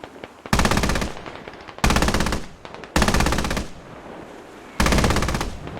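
Anti-aircraft gun firing in the military shooter game Squad, loud close bursts of rapid automatic fire, four long rattling volleys separated by short pauses, no voices over them.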